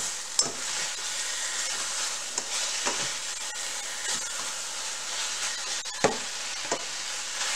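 Beef and cabbage fry in a pan while being pushed around, a soft continuous sizzle broken by a few sharp scraping clacks from the utensil, with no talk.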